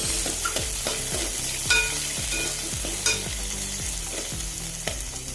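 Chopped onion sizzles in coconut oil with popped mustard seeds while a spoon stirs it in a pan, a steady frying hiss cut by a regular series of scraping strokes, close and without talk.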